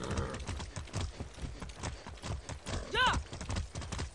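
Horse hooves galloping in the video game Far Cry 6, a fast regular clip-clop of many beats with a short whinny near the middle, while someone talks over it.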